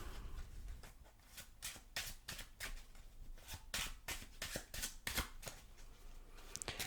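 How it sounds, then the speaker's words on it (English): Playing cards are shuffled close up in a rapid series of riffling, flapping bursts, quiet and crisp, with no talking. "And we'll give it a good shuffle."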